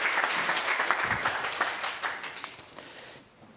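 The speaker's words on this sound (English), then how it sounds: "A very warm welcome and a round of applause for him," Audience applause welcoming a speaker at an event on China and the EU, a busy round of clapping with distinct individual claps that gradually thins and fades away toward the end.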